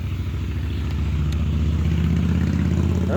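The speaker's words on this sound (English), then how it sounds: "That wasn't an airplane, that was a motorcycle" A motorcycle goes by on a nearby road, a loud, steady low engine rumble that holds strong throughout, with no voices over it.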